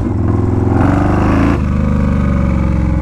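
Yamaha Warrior 1700 motorcycle engine running steadily while riding, a loud continuous low rumble that swells slightly midway, then settles back to a steady cruise.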